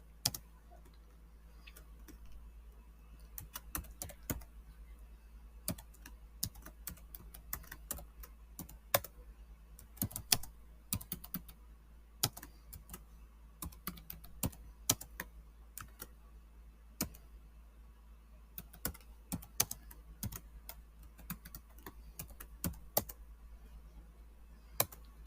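Verilog code typed on a computer keyboard, a long stream of irregular close key clicks and taps in bursts and pauses over a low steady hum, with no talking.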